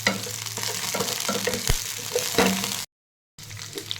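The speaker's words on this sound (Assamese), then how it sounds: "যেতিয়ালৈকে আপোনাৰ আলুখিনি নিসিজে তেতিয়ালৈকে অকণমান লৰাব" Potatoes frying in a pan for masala poha are stirred, with a busy sizzle, scraping and clinks from the spatula, broken by a brief silent gap before the frying resumes.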